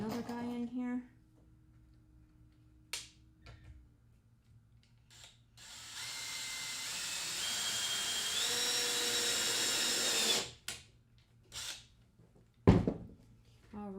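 A power drill drives screws in one long, rising whine lasting several seconds, preceded and followed by short clicks and bumps of handling, with brief talk at the start.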